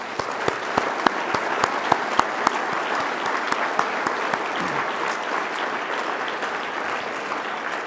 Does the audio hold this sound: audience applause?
yes